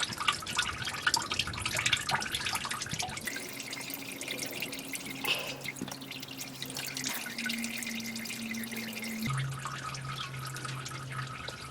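Engine oil dribbles from the drain of a 2011-or-later Ford Super Duty 6.7L diesel, a continuous liquid trickle and spatter close by, with shifting faint tonal hums underneath.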